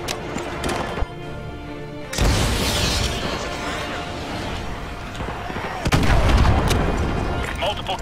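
Two heavy missile-strike explosions in Call of Duty: Modern Warfare 2 Remastered, each a sudden loud blast that rolls into a long rumbling decay, the second hitting a few seconds after the first, with voices in the background.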